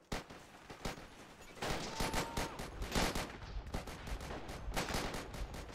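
Rapid gunfire in the World War II shooter Forgotten Hope, with dense bursts of shots cracking one after another at close range, interspersed with heavier thumps and a loud steady wash of battle noise.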